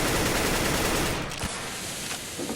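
Dense rattling Counter-Strike gunfire, AK rifle bursts, fills the mix steadily, then drops to sparser scattered shots and distant pops.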